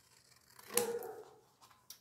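A single quiet snip of scissors cuts through a paper heart-shaped box, with a faint click trailing off near the end in an otherwise quiet room.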